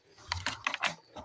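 Keys tapped on a computer keyboard while it is being unboxed and reviewed, a few quick irregular clicks in a short close burst with no talking.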